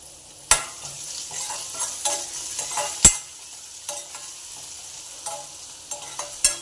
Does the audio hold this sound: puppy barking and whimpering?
no